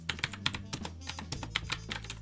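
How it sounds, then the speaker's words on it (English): Quick typing on a LIOURFE retro typewriter-style keyboard with LED lighting gives a dense run of crisp, clicky keystrokes, close and fairly soft, with no voices. "the keyboard works very well. It's very functional, very clicky."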